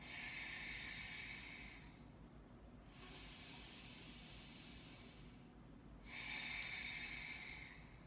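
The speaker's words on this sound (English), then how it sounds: "Just taking a nice deep breaths here, inhaling and exhaling." Slow, deep breathing during a yoga-style practice, three long airy breaths rising and falling in a gentle rhythm, soft and close over a quiet room hum.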